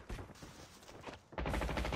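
AK-117 rifle fire in the mobile shooter Call of Duty Mobile comes as dense, rapid automatic bursts, moderately loud and close, surging to a continuous heavy volley near the end, with no talk.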